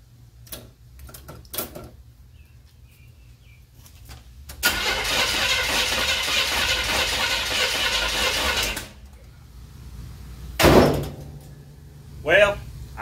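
A 1977 Chevy 350 V8, running on a used cam and lifters after a valve adjustment, starts up and idles with a slight lope for several seconds, close by, with short clanks and voices around it.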